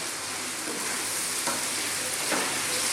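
Whole fresh chillies and small cut tomatoes cooking over medium heat for a beef coconut curry, a steady dense sizzle with faint crackles and a soft scrape or two, heard alone with no talking.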